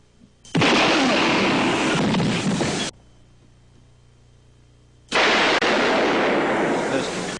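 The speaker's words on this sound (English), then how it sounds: "King got him with a blast from the shotgun." Two long, loud roaring shotgun blasts, each lasting a couple of seconds, separated by a quiet pause with a low hum.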